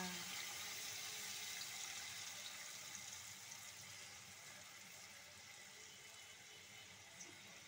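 Strained ground mustard water poured into a pan, a steady close splashing pour that gradually thins out over several seconds.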